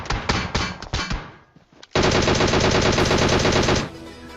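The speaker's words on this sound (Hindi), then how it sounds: "वो मेरे ऊपर फायर देता है।" Automatic gunfire in the PUBG Mobile video game: a few loud, separate shot bursts, a brief lull, then a long, dense, rapid volley of close shots that stops abruptly.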